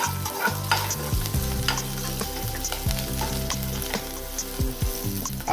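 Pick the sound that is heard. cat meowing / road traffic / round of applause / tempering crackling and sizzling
tempering crackling and sizzling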